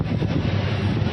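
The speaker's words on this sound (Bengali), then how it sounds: "বিমানটা চলে গেল।" An airplane passes overhead at dusk above a busy outdoor spot, a steady low rumbling roar with some wind buffeting, continuous throughout and without any talk.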